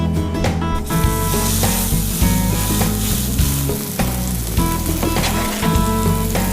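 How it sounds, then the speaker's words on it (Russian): A burger patty sizzles in olive oil in a heated pan over medium heat, a loud, continuous close-up frying hiss with occasional pops and scraping clinks, no talking. "Пусть она потихонечку себе жарится."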